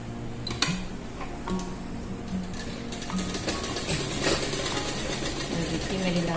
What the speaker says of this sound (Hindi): इसमें मैं 4-5 सिलाई चला देती हूँ ताकि ये मजबूत हो जाए